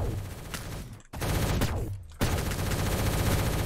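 Rapid bursts of gunfire from the egg-themed shooter game Shell Shockers, loud and dense, with repeated volleys and a brief gap near the middle before firing resumes continuously.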